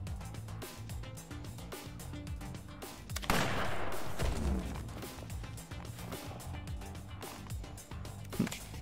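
Gunshots in the turn-based fighting game Fights in Tight Spaces, with rapid sharp cracks repeating over a driving music track, plus a louder impact burst partway through.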